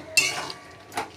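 A spoon scrapes and clinks against a pan while egg korma is stirred, two short metallic knocks about a second apart, near and fairly clear.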